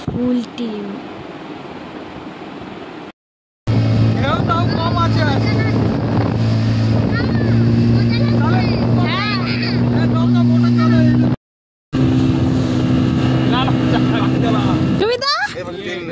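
A motorboat out on the sea at Digha, its engine droning steadily and loudly near the microphone, with wind buffeting and people talking and calling out over it, briefly cut off twice.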